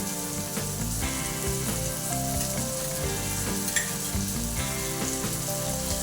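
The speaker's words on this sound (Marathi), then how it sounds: "कांदा आणि भाज्या परतवून झालेल्या आहेत" Onion and vegetables sautéing in a pan for sambar, a steady, loud sizzle and fry running throughout with light stirring, mixed with background music and no speech.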